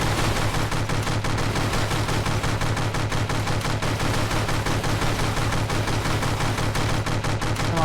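Continuous rapid SMG gunfire at a turret base in the video game From the Depths, a dense, unbroken stream of loud shots with a heavy low rumble underneath.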